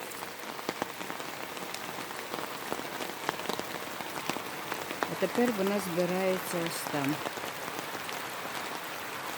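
Steady rain pours over a flooded yard in the Carpathians after a drought, a dense even patter of drops on wet surfaces throughout, with someone talking briefly over it.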